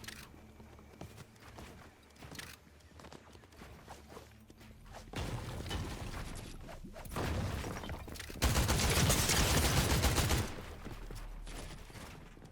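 Gunfire in Fortnite grows from scattered mechanical clicks and footsteps into sustained loud bursts, the heaviest volley near the end before it cuts off.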